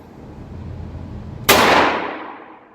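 A single sharp shot from a new, unlubricated Phoenix Arms .22LR pistol, loud and close, cracking out after a quiet moment and ringing off over about a second.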